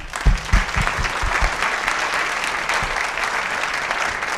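Audience applause at a live-streamed school event, loud and sustained clapping from a large crowd with a few heavier claps near the start, carrying on evenly without talk.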